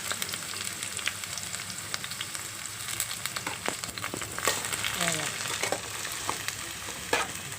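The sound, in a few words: onion and green chilli pieces frying in hot oil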